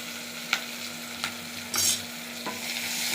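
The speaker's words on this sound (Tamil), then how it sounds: "நல்லா வதக்கிடலாம்." Three green chillies and onions sauté in a pan, a soft steady sizzle broken by a few distinct scrapes of the spoon at irregular intervals, close and moderately quiet.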